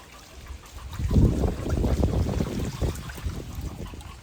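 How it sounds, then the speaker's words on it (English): Water sloshes and splashes as a curved frame drum is lowered and dipped in to soften its lacing, a rolling burst of liquid movement, close by, with no voices. "So we're going to dip it into the water."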